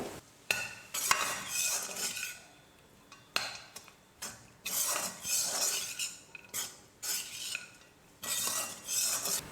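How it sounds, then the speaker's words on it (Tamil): Raw mango rice being mixed with a little salt in a pan, a spoon scraping and clinking against the metal in repeated bursts of stirring with short pauses between them, close and clear with no talking. "அதனால் கொஞ்சமாக உப்பு சேர்த்து மிக்ஸ் பண்ணிக்கிறேன்"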